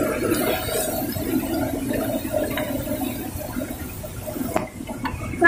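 Clothes are washed by hand in a river, with a steady wash of running, splashing water and occasional knocks and sloshes close by.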